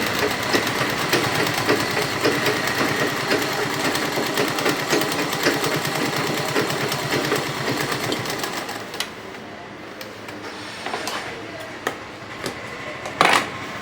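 A sewing machine stitches the slit of a churidar, rattling in a fast, even run for about eight seconds before stopping into quieter handling noises and short bursts of stitching.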